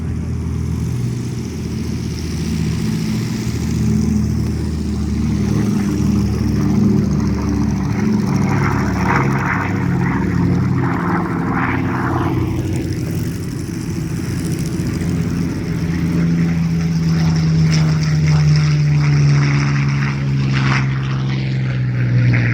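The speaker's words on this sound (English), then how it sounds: "going off the hard runway to join it, the Supermarine Spitfire 9." A Supermarine Spitfire IX and a Douglas Dakota take off at an airfield air show, their propeller engines droning loudly and continuously with a rising, shifting pitch, near and dominant throughout.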